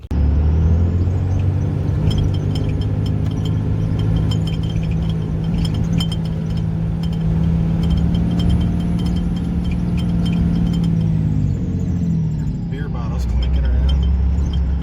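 A pickup truck, a 2004 model, is started and driven to move it out of the way, its engine droning steadily up close for most of the time before easing off near the end.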